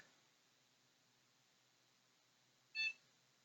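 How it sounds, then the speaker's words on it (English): A single short electronic POST beep sounds at power-on from the motherboard of a newly assembled AMD A4-7300 budget gaming PC, a brief clear tone after near silence with faint background hiss. "One beep is good."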